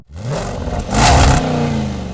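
A Lexus IS500 engine revs up from a start into a loud, rising roar, holding a strong sustained note up close for about two seconds.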